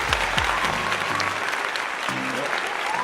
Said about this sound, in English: let's hear it for Simona